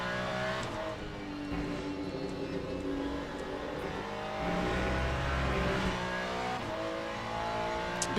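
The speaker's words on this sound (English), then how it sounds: "That car sounds so angry." An Aston Martin GT race car engine in the Le Mans Ultimate racing game growls steadily and angrily, rising and falling through revs in one continuous close roar, with no voices.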